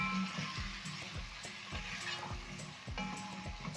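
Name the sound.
stirring carrots and potatoes into tomato sauce in pot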